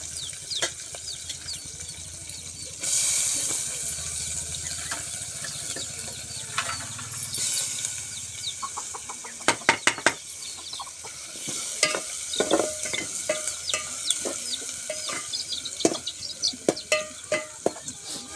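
Chopped onions are stirred in a hot pan, with a soft steady sizzle broken by repeated scraping and clattering strokes of a spoon against the pan.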